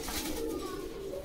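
Pigeons at a pigeon market in Bogura make a low, soft cooing close by, a short, steady murmur with no clear talk over it.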